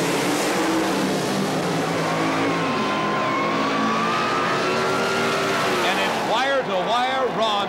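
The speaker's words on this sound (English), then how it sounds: "this 1923 Model T Roadster driven by Ron Boggs of Columbus, Ohio" A 1923 Ford Model T Roadster drag car at a 1970s Pro Comp Eliminator drag race roars loudly and steadily at full throttle, its engine pitch rising as it launches down the strip, with a commentator talking over it.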